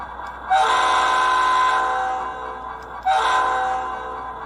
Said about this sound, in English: playback speeds for the horn down from 128 to 120, and that makes the horn deeper again